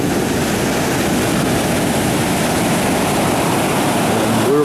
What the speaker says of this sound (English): That's the Pacific Ocean you just see